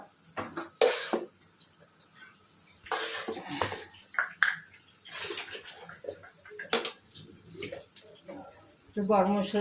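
A metal utensil clatters and scrapes against a pan as ghee and garam masala go in, with irregular clinks and bursts over background kitchen noise and occasional voice.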